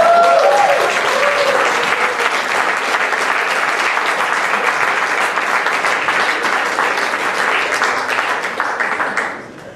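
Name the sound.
audience applause at cabaret show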